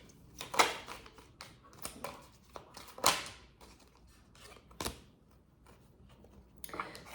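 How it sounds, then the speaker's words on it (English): Tarot cards from an Angel Wishes deck being shuffled by hand, a run of soft papery riffles and sharp flicks at an uneven pace, close and quiet with no talking. "So I'm going to shuffle some more from this Angel Wishes."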